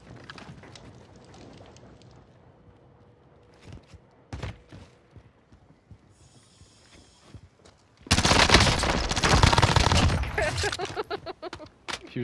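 Gunfire in Call of Duty Warzone: scattered single shots and footsteps at first, then a loud, sustained burst of rapid automatic fire near the end.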